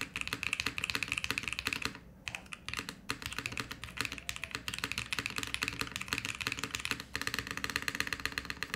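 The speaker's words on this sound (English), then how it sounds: "Do you guys think the spacebar sounds a little bit dead?" Fast, continuous typing on a mechanical keyboard with no foam inside, dense clacking keystrokes up close, with a brief pause partway through before the tapping resumes.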